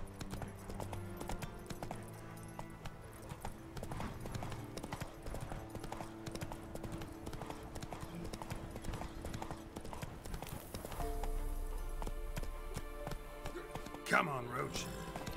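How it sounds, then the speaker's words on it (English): Hoofbeats of a horse trotting and galloping in The Witcher 3 video game, a steady rhythmic clip-clop running throughout beneath game music and someone talking over it. "Yeah, Roach, run into that sign, Roach."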